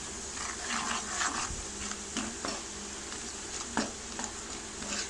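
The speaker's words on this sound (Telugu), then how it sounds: "మొత్తం కలిసేలాగా కలుపుకుందాం" Gram flour mixture is stirred in a pot or bowl with a utensil, giving soft scraping and clinking strokes with a few sharper taps, quiet and close, with no talking.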